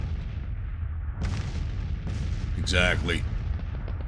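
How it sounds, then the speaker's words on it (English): Artillery booms from a Civil War battle in Grand Tactician: The Civil War, a rumbling barrage of low blasts rolling under the background while someone briefly speaks. "At least my artillery's getting some action."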